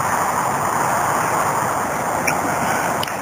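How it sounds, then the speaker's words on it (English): A flowing creek beside the Los Gatos Creek Trail gives a steady, continuous rush of water that holds an even level throughout, with no voices. "There's a creek down there"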